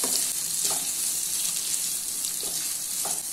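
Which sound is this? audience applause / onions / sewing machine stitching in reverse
onions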